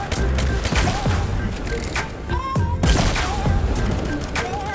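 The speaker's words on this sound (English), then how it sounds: "Oh my god, you hear the explosion?" Loud Roblox combat with repeated booming explosions and gunfire-like cracks, dense and continuous, with scattered higher electronic tones.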